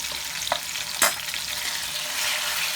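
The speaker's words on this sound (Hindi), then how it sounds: "ऑयल गरम हो गया, चिकन डाल दीजिए।" Chicken pieces drop into hot oil in a karahi and fry with a loud, close, continuous sizzle, punctuated by two quick clanks of a spoon against the pan.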